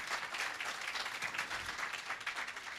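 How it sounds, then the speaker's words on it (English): An audience at an irrigation system and agro park launch ceremony in Jamaica applauds steadily. The dense, even clapping carries on at moderate volume without a break for the whole clip. "And you can give another round of applause for that."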